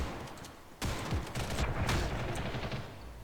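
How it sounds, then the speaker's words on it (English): Shotgun blasts in the online shooter Ghost in the Shell: First Assault, a sharp loud report followed by further gunfire and battle noise over a busy game background. "maybe the shotgun isn't that great"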